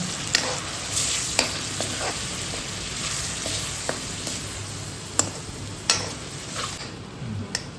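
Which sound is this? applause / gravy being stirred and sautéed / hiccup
gravy being stirred and sautéed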